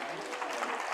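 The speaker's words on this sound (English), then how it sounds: "Please, one more time, a round of applause for everyone" Audience applause at the close of a panel event for teachers, a dense, steady wash of clapping from a crowd, moderately loud and continuous for the whole second.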